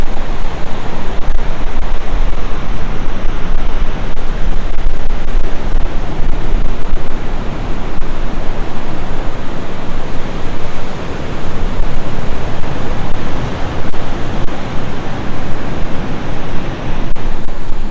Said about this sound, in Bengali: সমুদ্রের গর্জন মানে এত গর্জন